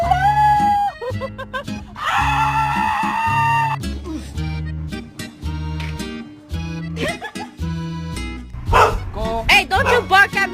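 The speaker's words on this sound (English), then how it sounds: "don't you bark at me" A dog barks and yips in repeated bursts at close range, loud and irregular, mixed with other tonal sounds and no clear speech.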